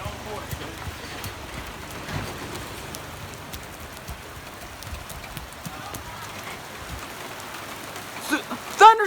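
Heavy rain pours steadily during a strong thunderstorm in West Virginia, a dense continuous hiss of drops pattering on surfaces near a porch, growing a little louder toward the end.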